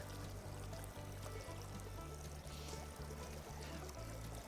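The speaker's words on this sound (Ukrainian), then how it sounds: "І ще дивіться, такий потік." A clear mountain stream flows steadily with a dense, even rush of water and a full low gurgle, continuous and close.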